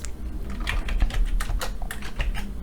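Quick, light clicks from a computer keyboard as a short number is typed, the keystrokes coming in an irregular burst, close and fairly soft.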